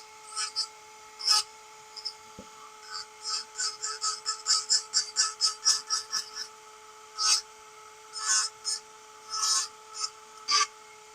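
A carbide woodturning tool cuts wood on a lathe, giving repeated short rasping scrapes in uneven bursts over a steady low hum, close and moderately loud.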